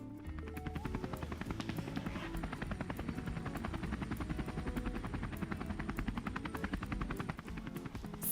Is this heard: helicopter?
yes